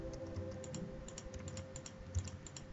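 Soft, quick keystrokes tap on a computer keyboard at an uneven pace over a low steady hum, faint and close.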